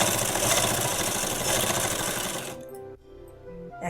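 A sewing machine stitching a sharara pant runs with a dense, rapid mechanical whirr for about two and a half seconds, then stops abruptly, leaving faint clicks and residual hum.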